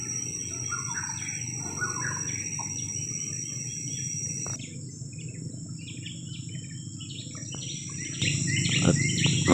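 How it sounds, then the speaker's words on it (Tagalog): Many birds call and chirp continuously in the rainforest at Sukau along the Kinabatangan in Sabah, with a steady insect or cricket drone underneath, the chorus growing a little louder toward the end. "Napakasarap pakinggan ang mga huni ng ibon."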